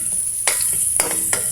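Garlic and onions browning in a kawali sizzle steadily, with three quick stirring scrapes at regular intervals cutting through the hiss.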